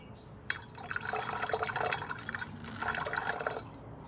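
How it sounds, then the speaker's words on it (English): Nitric acid, about 40 to 50 milliliters, pours into a laboratory beaker during gold refining from copper contamination: a steady liquid splash starting abruptly, running about three seconds, then stopping, close and moderately loud. "Go ahead and add the first dose of nitric acid."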